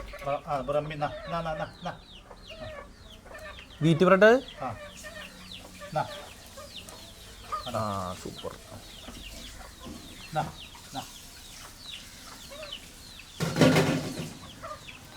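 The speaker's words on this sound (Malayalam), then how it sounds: "ആ പൂവൻ കോഴി" A rooster clucks and calls a few times nearby, mixed with people talking and outdoor background noise.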